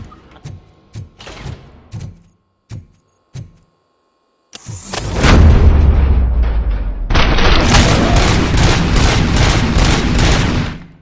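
Gunfire in the RoboCop: Rogue City video game: a few scattered sharp shots and thuds, then a sudden roar of continuous heavy automatic fire that stays loud and dense to the end.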